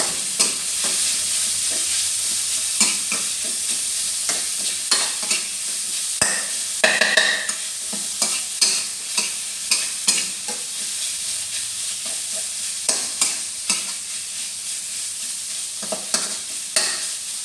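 Beef stir-fried with curry paste in a hot pan, a steady sizzle under repeated scraping and clattering strokes of a spatula, close and continuous with no voices.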